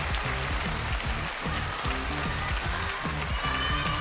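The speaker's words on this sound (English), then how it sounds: "The crowd appreciates that one." A crowd claps steadily after a point at a table tennis world cup in Macao. The applause is dense and sustained, with a rhythmic undertone of voices mixed in.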